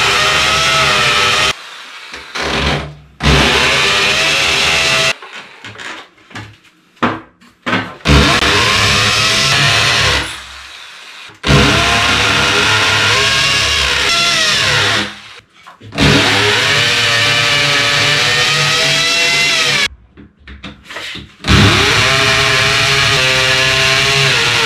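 A power drill in screwdriver mode drives screws while building a pine wood shelf, giving loud, close whirring bursts of several seconds each, broken by brief pauses between screws.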